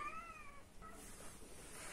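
A domestic cat recovering after surgery meows plaintively once, a rising and falling cry, followed by a fainter second mew against a quiet indoor background.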